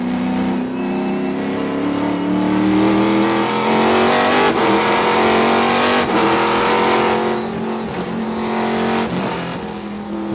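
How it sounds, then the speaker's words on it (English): A Trans Am race car at Sonoma's road course howls loudly through revs and gear changes, its engine note rising and dropping in sharp shifts with no talk. "Kyle Kelly's car sounds amazing."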